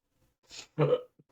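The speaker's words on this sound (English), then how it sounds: "Just did a hiccup." A single close hiccup from a person, a short breathy catch followed by a louder voiced gulp-like burst, heard alone in an otherwise quiet moment.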